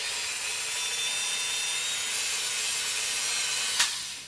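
Dremel rotary tool running at its slowest speed on a plastic model ship part: a steady, close high-pitched whine and hiss that holds constant, ending with a brief sharp click as it winds down.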